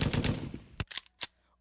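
Gunfire sound effect: a rapid burst of automatic machine-gun fire followed by three separate sharp shots with short echoing tails, loud and close, with no talking.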